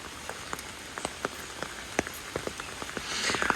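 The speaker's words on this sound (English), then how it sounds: "if it keeps raining" Rain falls outdoors onto flooded ground near a lake, a soft steady wash scattered with distinct drip and splash taps, swelling slightly louder toward the end, with no voices.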